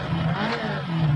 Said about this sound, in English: if I turn that on right now, you'll hear the engine start up on my GTR2 BMW